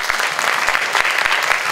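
An audience at a business talk applauds, a dense burst of clapping from many hands that lasts under two seconds, close and loud.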